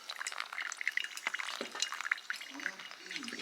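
Water poured slowly in a circle over coffee grounds in a brewer gives a steady, soft trickle and patter of dripping liquid throughout, while someone talks quietly.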